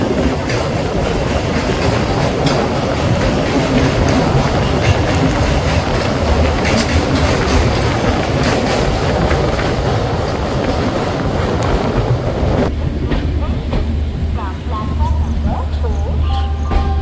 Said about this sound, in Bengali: আমাদের ট্রেন কিন্তু ফার্স্ট স্টপেজ খুর্দা জাংশন রোডে প্রবেশ করলো